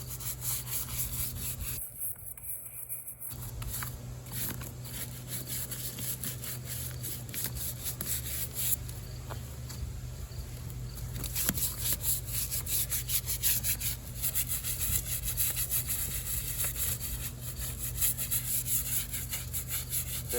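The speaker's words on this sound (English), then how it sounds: "So I just go up and down the whole boot, scrubbing it wherever I sprayed" A brush scrubs up and down a dirty Alpinestars Tech 10 or AXO Dart Pro motocross boot wherever cleaner was sprayed, giving a close, steady rasping rub that runs continuously with a brief pause early on.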